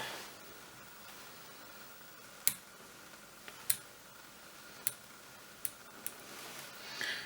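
A pair of scissors trims thread and synthetic hair at a fly-tying vise while a baitfish pattern is finished: about half a dozen crisp, quiet snips come at irregular intervals over a faint hushed background.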